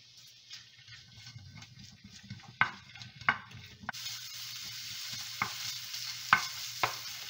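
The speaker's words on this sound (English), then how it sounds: "Okay, ready to brown the sausage." Pre-cooked sausage starts browning in a frying pan with a little olive oil, a faint sizzle that swells into a steadier hiss partway through, punctuated by a few light utensil taps and scrapes.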